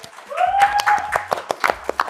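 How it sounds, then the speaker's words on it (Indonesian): Audience at an Indonesian film event for Tinggal Meninggal clapping, a short burst of scattered claps and cheers, close and fairly loud. "Tepuk tangannya boleh."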